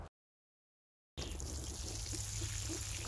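Water poured onto newly planted, mulched zucchini plants in a garden bed, a steady close trickling splash that starts abruptly after a silent gap.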